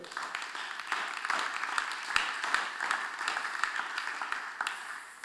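Steady applause from a church congregation after a call to praise the Lord, many hands clapping in a dense, even wash with a few sharper individual claps, moderately loud and with no speech.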